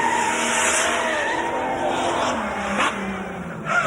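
A small car in a go-to-whoa run at Summernats sliding sideways at the finish, engine revving and tires squealing as it skids, with a crowd-filled outdoor backdrop.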